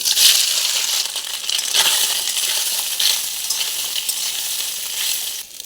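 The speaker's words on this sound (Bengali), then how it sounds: "এবার আমি ওই একই তেলের মধ্যে দিয়ে দিচ্ছি ধুয়ে রাখা সয়াবিন।" Washed soybean chunks drop into hot mustard oil in a kadai, setting off a loud, dense and steady sizzle that holds for several seconds and then cuts off.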